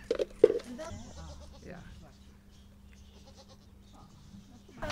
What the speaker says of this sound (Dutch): Op stadsboerderij Beeklust werden geitjes en lammetjes geboren.